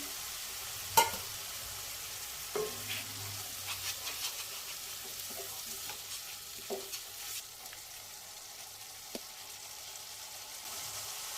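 Ground spices sauté with a little water in a pan, giving a soft, low sizzle with occasional stirring clinks and scrapes close by.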